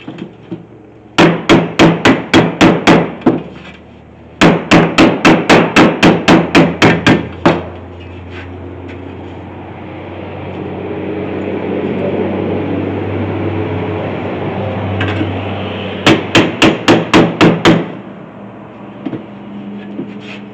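Bursts of rapid metallic hammer taps on a steel body panel of a 1972 Chevy C30 truck, three clusters of about seven to nine quick strikes each, close and loud, with a steady background hum between them.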